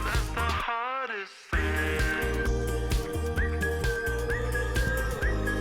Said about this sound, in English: I love that whistle as well.